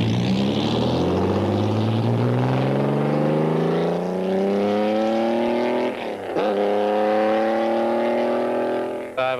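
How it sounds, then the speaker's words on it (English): A Maserati 250F Grand Prix car, a non-fuel-injected 1950s racer, accelerates hard on a test drive, its engine note climbing steadily, then dropping for an upshift before rising again, loud and close throughout. "John Watson test drives a 250F."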